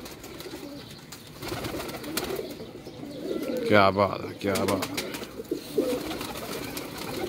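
Pigeons cooing close by in a loft kept for flying, soft throaty coos rising and falling, with someone speaking briefly over them amid general background noise.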